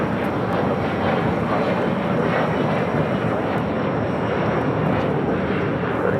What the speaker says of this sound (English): Turkish Airlines, the A350-900 coming in from Istanbul. Next heavy arrival there on the north side, 24 right.